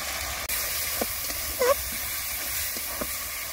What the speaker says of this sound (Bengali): এবার টমেটো কুচি দিয়ে খুব ভালো করে মশলাটা কষে নেব।